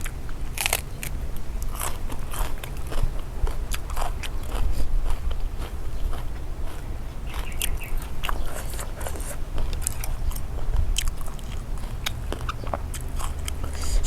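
Close, crisp crunching and biting of Korean-style soy-marinated shrimp wrapped in seaweed, with rapid irregular chews running throughout and no talking.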